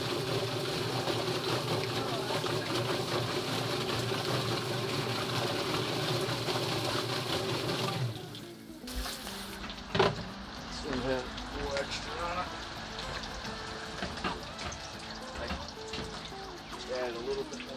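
Steady rushing water runs into a chicken scalder for about eight seconds, then cuts off, leaving softer splashes, clatter and people talking during a backyard pasture-raised chicken butchering.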